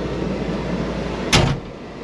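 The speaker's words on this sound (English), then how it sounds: "Let's shut that door." A farm door shuts with a single sharp bang, close and loud, after a low steady background hum.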